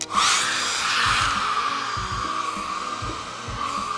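A hair dryer blows hot air onto cosplay wig hair to soften a lock for shaping, a steady close whooshing hum with faint handling clicks and rustles underneath, no talk.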